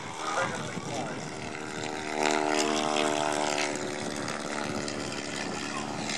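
Two WW1 fighter planes, a Fokker Triplane and a Bristol F2, fly past with a steady droning piston-engine roar that swells louder midway through, heard under outdoor crowd noise and talk.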